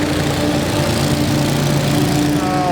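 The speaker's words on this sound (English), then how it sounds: "He hasn't changed his mowing pattern for a half an hour." A lawn mower engine drones steadily while mowing a football field, a loud, continuous hum with a stable pitch and no talk over it.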